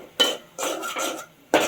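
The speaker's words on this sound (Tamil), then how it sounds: "இதை சேர்த்து நல்லா அப்படி கிளறி விட்டுக்கிட்டே இருக்கணும்." A few scraping stirs of raisins and cashew nuts in a metal pan, made while cooking a Kanyakumari-style Nendran banana roast: three short clattering bursts with pauses between, close by and moderately loud, with no voices.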